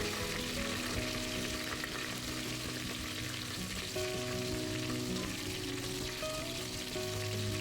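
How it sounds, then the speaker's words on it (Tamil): Coriander, mint, pandan leaves and green chilies sauté in hot oil for mutton biryani, a close, continuous sizzle with occasional stirring scrapes and no talk. "இது கூட கொஞ்சமாக கொத்தமல்லி, புதினா, ரம்ப இலையெல்லாம் சேர்த்து லைட்டாக வதக்கி விடலாம்"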